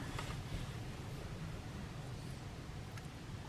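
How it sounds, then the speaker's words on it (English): Wind blowing outdoors on a sunny, blustery day in the UK, a steady, fairly faint broadband rush and low rumble buffeting the microphone throughout, with no pauses. "It's a bit windy today."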